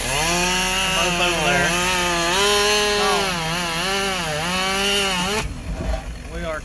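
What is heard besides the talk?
chainsaw cutting logs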